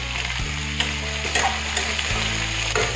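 Chopped ivy gourd (kundru) fries over high heat in a pan, giving a steady loud sizzle broken by a few stirring scrapes, with no talking.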